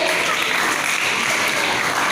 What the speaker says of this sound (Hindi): वेरी गुड, ताली बजाओ उसके लिए।